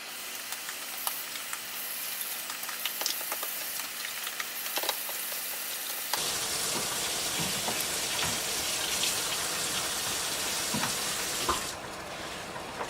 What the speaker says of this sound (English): I'm gonna catch some water in this separate bowl that I have, and then I'm gonna pour it into the pot.